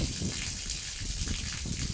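Water gushing from an opened valve to soak cows on a hot day, a steady hissing rush that runs evenly and fairly near throughout.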